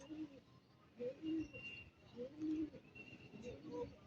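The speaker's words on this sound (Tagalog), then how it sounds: "Yan mga kaibon, daming kalapati ngayon" Racing pigeons coo in soft, repeated throaty phrases, several overlapping calls at moderate distance, with faint background noise, in San Simon, Pampanga.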